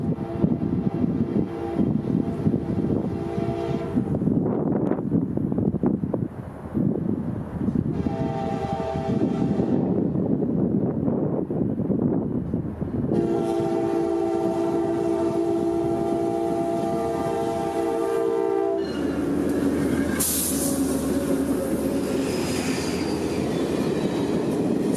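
A CSX executive office car special led by an F40PH locomotive approaches around a curve near Tampa Bay, loud rumbling engine and rolling wheels with repeated long horn blasts, a squeal of wheels near the end.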